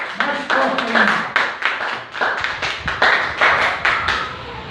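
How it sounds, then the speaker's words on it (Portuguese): A church congregation claps in praise of the Lord Jesus, loud and close, with rhythmic, fairly even bursts of hands striking together and a few voices calling out beneath. "Dê uma salva de palmas bem forte para o Senhor Jesus. Mais forte ainda."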